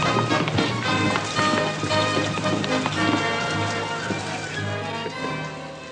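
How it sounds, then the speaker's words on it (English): Steady rain patters and hisses outside in a western frontier town, a dense, loud wash of drops with faint background music. "Hey, everybody, it's raining outside."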